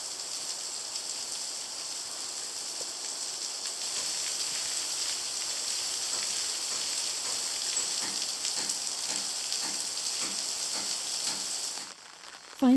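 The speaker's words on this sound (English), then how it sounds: "it started to rain." Steady rain falls through a cedar forest along a temple pilgrimage path in Kochi, Shikoku, a dense even hiss with scattered drops, loud and continuous throughout before briefly easing at the end.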